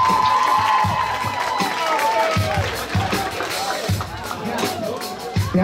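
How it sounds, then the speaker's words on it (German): Concert crowd at a bar venue applauds and cheers loudly, dense clapping mixed with whoops and shouted voices, a sustained near roar with rhythmic thumps underneath throughout. "Ein Applaus bitte!"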